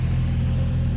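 An old Jeep truck engine with very little exhaust runs with a loud, steady low rumble, close by and with no voices over it.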